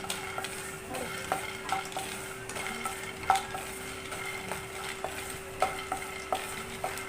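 Peanuts and sesame seeds dry roasting in a pan, stirred with a steady run of soft scraping strokes and light rustling over a faint constant hum, close by with no voices.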